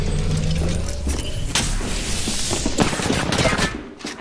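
Rapid automatic gunfire in the video game Apex Legends, bursts of shots crackling close and loud over several seconds, mixed with mechanical clicks and rattles.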